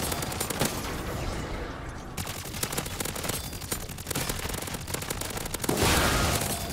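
Dense, continuous rapid-fire automatic weapon bursts in the MW3 Zombies video game, a loud unbroken stream of shots with brief dips and a heavier blast near the end.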